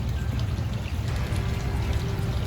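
Vinegar is poured and sprayed heavily over the ribs of a diseased cactus, giving a continuous wet splashing and trickling that stays fairly loud and steady from start to finish.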